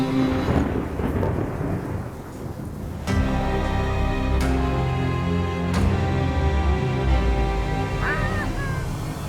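A cartoon-style storm sound effect with thunder crashes and steady rain, loud and full, with several sharp thunder claps over a constant rumble and musical tones in the background.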